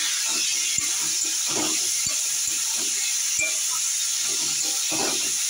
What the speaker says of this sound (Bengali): বেগুনগুলো দিয়ে দেবো।